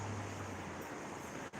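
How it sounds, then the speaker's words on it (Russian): Wind roars steadily in a broad, dense rush outdoors in Yakutsk during May snowfall, briefly dipping near the end. "Вам там слышно ветер-то, а?"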